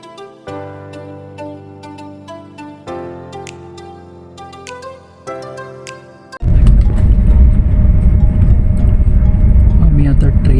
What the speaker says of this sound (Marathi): आम्ही आता ट्रेनमध्ये आहोत